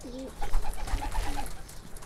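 Pet pigeons coo in their coop, soft repeated low cooing phrases close by, with a faint background hum and no talk.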